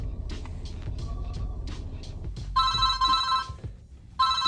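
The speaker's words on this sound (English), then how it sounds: "I'm not answering this damn phone." A phone rings inside a car stuck in traffic: two bursts of bright electronic ringing over road rumble and scattered knocks, the first longer, the second cut short.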